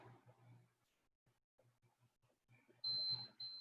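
A workout interval timer sounds a loud electronic beep near the end, a steady tone followed by a second shorter beep, after a stretch of low murmuring and faint movement.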